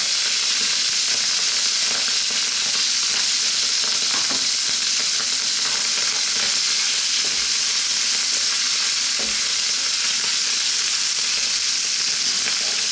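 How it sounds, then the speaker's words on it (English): Beef, garlic and ginger stir-fry in a wok in sunflower oil over high heat, with a loud, steady hiss and sizzle throughout and occasional faint stirring knocks. "And we're going to start to fry. We're now going to add in here some garlic and ginger."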